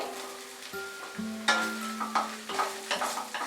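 Boiled soya chunks frying with onions over medium heat, a steady close sizzle broken by repeated stirring scrapes and clinks against the pan, with no talking.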